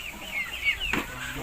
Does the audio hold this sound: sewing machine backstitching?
no